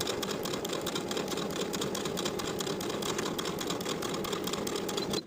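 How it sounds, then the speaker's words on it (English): A sewing machine stitches a long seam down a summer dress, running fast and steady with a dense, even mechanical chatter, close and loud and without pauses. "Then we'll sew this seam starting again from the top finished edge of the facing across the main armhole seam and to the bottom of the dress"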